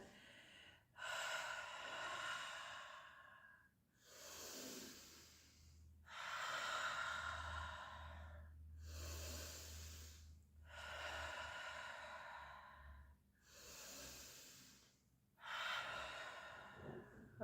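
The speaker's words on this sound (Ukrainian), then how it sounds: "Видихаємо через рот." Slow, audible breaths out through the mouth during a breathing exercise: six long, airy exhalations with short pauses between them, close and steady, with no talking over them.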